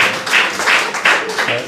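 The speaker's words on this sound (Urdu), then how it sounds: "تو اجازت ہے دونوں بیگمات کے لیے تالیاں ہونی چاہیے." Applause from a mushaira audience at an Eid Milan poetry gathering in London, a dense wash of many hands clapping in swelling bursts, fairly loud and close, with some crowd voices mixed in.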